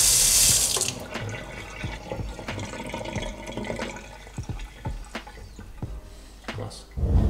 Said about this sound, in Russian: поворачиваем, и вся вода у нас убежала.